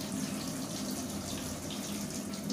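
Water trickles and seeps steadily through a container of sprouting mung beans, a continuous close wash of running water like a gentle tap flow with faint drips, no voices.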